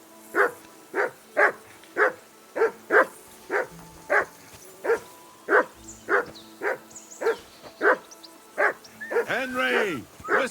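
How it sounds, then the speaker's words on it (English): Dog barking in the video game Kingdom Come: Deliverance II, about fifteen loud evenly spaced barks close by, ending in a drawn-out whine. "Whistle at that mutt of yours to stop barking."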